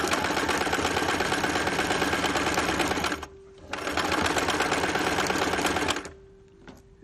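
A sewing machine stitches a fabric hot water bottle in two long, steady runs of rapid needle chatter, each about three seconds, with a short pause between them while the needle is planted and the fabric is turned.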